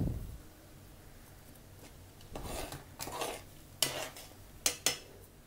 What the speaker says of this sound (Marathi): आता हे चांगलं घोटून घेणार आहोत.